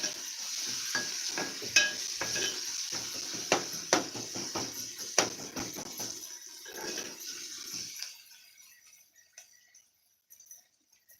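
Onion frying in a pan until reddish-brown, a steady close sizzle broken by sharp scrapes and stirring clatters, then cutting off to near silence.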